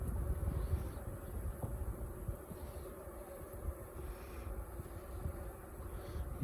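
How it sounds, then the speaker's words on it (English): A cluster of bees on a beehive being cut out gives off a soft, continuous buzzing hum, close and steady, with no voices. "Yeah, there's the bees there, sort of clustering on this other end."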